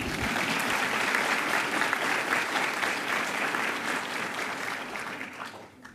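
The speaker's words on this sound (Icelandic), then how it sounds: "Það má klappa." A large audience applauding at a university graduation ceremony, with dense, sustained clapping filling a hall for several seconds before it fades at the end.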